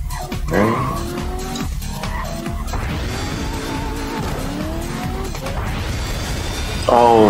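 An arcade race car in Cruis'n Blast skids with squealing tires and a revving engine, then slams into a wall with a loud crash near the end, amid busy game music.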